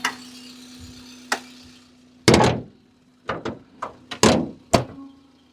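Maruti WagonR car doors open and shut several times, a series of sharp latch clicks and solid thuds spaced irregularly at close range, with faint background hum between them.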